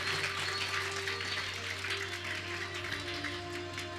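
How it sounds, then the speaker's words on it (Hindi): Applause from listeners at a devotional religious discourse, a continuous spread of clapping over a steady droning hum in the hall. "एक बार आप लोगों के लिए जोरदार ताली बजाइए।"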